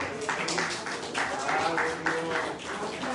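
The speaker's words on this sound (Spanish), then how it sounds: "Un aplauso para Cristo" Church congregation applauding after a closing prayer, a steady spread of many hands clapping throughout, fairly close and loud, with some voices mixed in.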